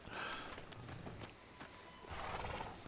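A horse whinnies while hooves clip-clop at a walking pace, fairly quiet and close, with video game ambience from Red Dead Redemption 2 and no speech.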